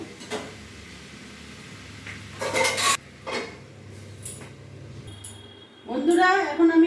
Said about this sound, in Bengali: এবার নাড়াচাড়া দিয়ে আমি এবার ঢাকা দিয়ে একটু আঁচটা কমিয়ে দেবো।